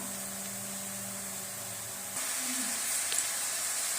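Boiled cabbage sautéing with a pinch of turmeric in a pan, a steady close sizzle that steps up louder halfway through, with a faint hiss and occasional stirring.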